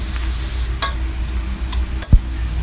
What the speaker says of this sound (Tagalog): At i-continue rin po ang ating paghalo hanggang sa magpantay po ito.